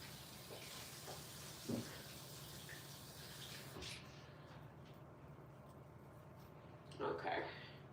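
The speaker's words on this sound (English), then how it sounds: "I'm gonna wash my hands real quick" Tap water runs steadily in a home bathroom while hands are washed after applying curl mousse, a soft broadband hiss throughout with a few brief splashy bursts, and faint speech near the start.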